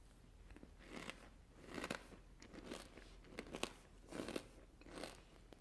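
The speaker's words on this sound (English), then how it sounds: "That is really crunchy and so yummy." Crunchy rice flake and Bengal gram wasabi snack bitten and chewed up close, with a steady series of dry crackling crunches in rhythmic bursts and no talking.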